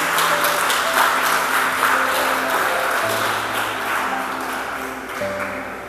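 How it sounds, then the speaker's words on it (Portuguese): A church congregation applauds during a Sunday service, a steady dense wash of clapping held at a constant level, with sustained musical tones ringing underneath. "Vamos aplaudir o nome do Senhor Jesus."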